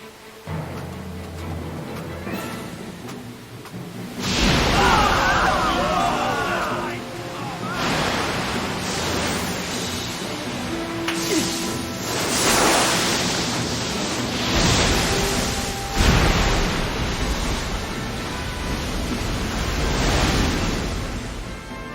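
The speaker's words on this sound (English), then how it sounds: "It's collapsing! Levee's breaking! Head for higher ground!" Flood water bursting through a collapsing levee in an anime, a loud surging rush that starts suddenly and keeps roaring with swelling waves, while voices shout over it.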